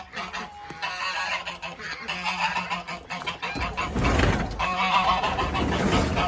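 Geese and ducks at a backyard coop honk loudly and repeatedly, a nearby flock of overlapping calls growing more intense toward the end, with no talk.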